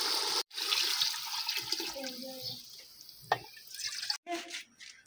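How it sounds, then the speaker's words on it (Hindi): Water being poured into a pot of browned chicken for village-style desi chicken pulao, a close, gurgling splash and hiss with a few short breaks and drips. "ये मैं पानी डाल दिया,"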